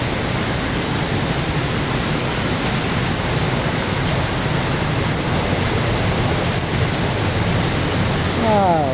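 Heavy rain and deep floodwater on a road, a loud unbroken wash of rushing, churning water filling the whole stretch.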